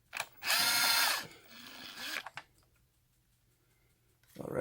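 A power tool spins out two small screws from the battery cover of a lithium solar battery pack: a loud whirring burst, then a second shorter, quieter run, and a brief rise at the end.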